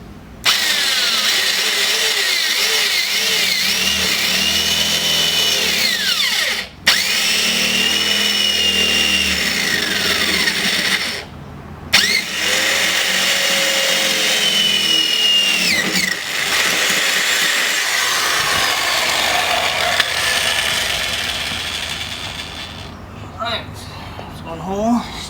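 A power drill boring along a pilot hole while fitting a car side skirt, whining steadily and loudly in long runs with a few short stops, its pitch shifting as the load changes.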